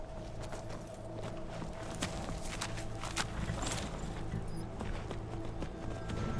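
Horse hooves clip-clop on the ground in the video game Skyrim, a fairly quiet run of rhythmic steps continuing through the moment with a few sharper clacks.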